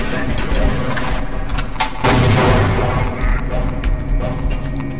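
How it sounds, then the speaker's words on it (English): Grenade explosion and gunfire in the video game Half-Life: Uplink: dense combat noise with a heavy blast around the middle, surrounded by scattered shots and rumble, loud and close throughout. "Oh, there's a grenade."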